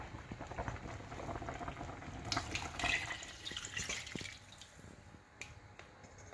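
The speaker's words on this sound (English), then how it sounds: "pour some more water in there." Water splashes and trickles steadily into a pot of Jamaican curry chicken feet, a bubbling, wet wash with a few sharp drips, close and moderately loud.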